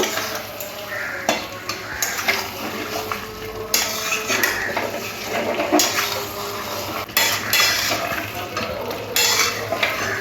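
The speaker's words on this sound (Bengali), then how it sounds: "চিকেন আলু ভালোভাবে মিশিয়ে নেব।" Chicken and fried potato pieces stirred together in a pan for Bengali kosha chicken curry, loud continuous scraping and clattering of a spoon against the pan over a constant sizzle, close and busy, with no voices.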